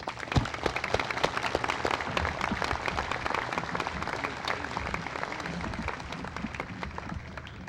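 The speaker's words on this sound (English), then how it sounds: "Please join me in giving these great leaders and volunteers a round of applause." A crowd at an outdoor Civil War soldier monument rededication gives a sustained round of applause for leaders and volunteers, dense continuous clapping that stays fairly loud for several seconds before tapering slightly.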